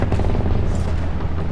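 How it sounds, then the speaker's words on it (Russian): A grenade blast in the World War Heroes shooter game: a loud, dense, rumbling boom that fills the short moment with heavy low-end roar and no pause. "Кидаю гранату!"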